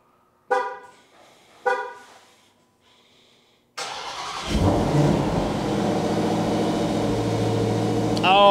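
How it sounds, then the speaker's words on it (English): A 2023 Dodge Demon 170 V8 running on E85 is cold-started: two short electronic chimes, a pause, then a sudden loud crank and catch into a deep, rumbling high idle that keeps going close by. "Cold start on a 2023 Dodge Demon 170."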